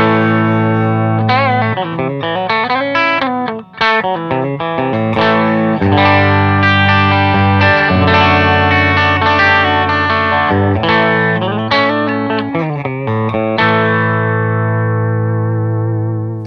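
Electric guitar through an Xotic SP Compressor pedal with the input pad engaged, loud and steady, mixing strummed chords with bending single-note lines and long sustain, heard alone without talk.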